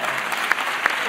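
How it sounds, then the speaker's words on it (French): Audience applause at a cultural event for a man called up to be applauded, a short steady wash of clapping with a couple of sharper claps standing out. "Applaudissez le monsieur."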